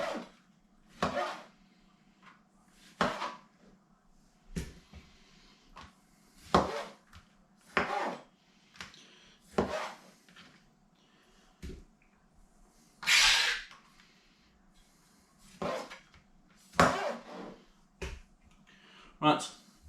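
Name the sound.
chopping tomatoes on a board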